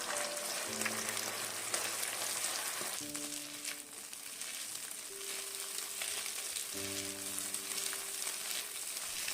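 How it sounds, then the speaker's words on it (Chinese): Beaten egg sizzles and fries in hot oil in a wok as a spatula quickly breaks it up, a constant crackling hiss up close, with tonal hums drifting in and out behind it. "油热后把搅拌好的鸡蛋液倒入锅中，用铲子把鸡蛋快速的炒散"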